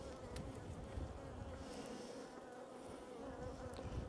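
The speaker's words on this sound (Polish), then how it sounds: "Tu jest o wiele więcej pszczoły" Honey bees buzzing at an open beehive, a dense, soft, continuous drone of many insects heard close up, with no voices.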